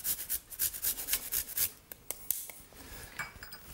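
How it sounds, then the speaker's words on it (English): Fresh ginger rasped over a grater into a honey, salt and oil marinade for salmon, with quick rhythmic scraping strokes close up that thin out into a few sparse scrapes. "We're just going to grate some fresh ginger in there."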